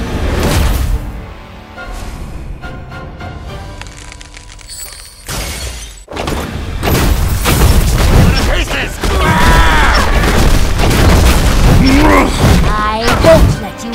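Missile blasts and shattering booms from the Dungeon Hunter VI video game, loud repeated explosive bursts and crashes layered over game music and character voices.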